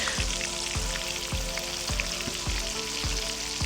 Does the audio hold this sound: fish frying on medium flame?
yes